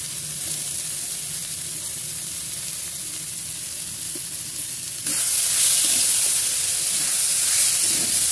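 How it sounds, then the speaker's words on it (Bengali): Boiled young jackfruit goes into hot oil seasoned with salt, and a steady hissing sizzle abruptly grows louder and brighter partway through as the pieces hit the pan, close and continuous without talk. "এর ওপর ছেড়ে দিচ্ছি সিদ্ধ করা এঁচড়গুলো"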